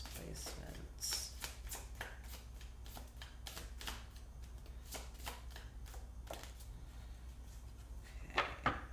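An oracle card deck is shuffled by hand, a rapid run of crisp riffling flicks and card slaps, close and steady, with a couple of sharper taps at the end.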